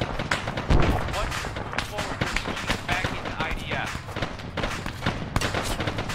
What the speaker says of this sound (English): There's a heavy weapon that's engaging us from the northwest.